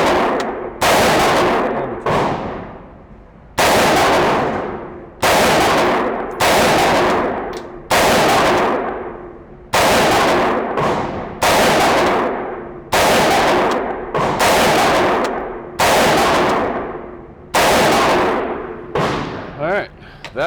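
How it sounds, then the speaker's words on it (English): A Palmetto State Armory AR-15 build-kit rifle fires a ten-shot group, sharp loud reports spaced about a second or more apart, each followed by a brief ringing decay, all close and alone without talk. "we'll shoot a 10-shot group on the left circle. This gun shoots awesome."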